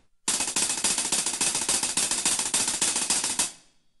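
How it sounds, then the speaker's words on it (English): Fast unaccented double stroke roll on a snare drum, a continuous rattling stream of strokes played close and loud for about three seconds, then cut off. "If I didn't do that at a faster tempo, the double stroke roll would sound like this."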